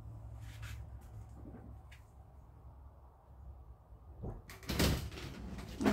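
Sliding shower door in a 2014 Evergreen Ascend A191RB travel trailer rolls open, quiet rubbing and rattling ending in a short louder clack near the end, in a quiet interior.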